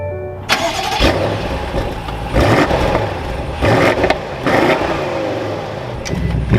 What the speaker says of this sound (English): With my foot on the brake, we can fire this up.